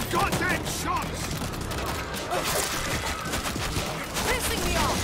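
Rapid gunfire in a Killing Floor-style co-op shooter on solo Hard difficulty, a dense continuous fusillade of close shots with mechanical clatter, while voices shout over the combat throughout.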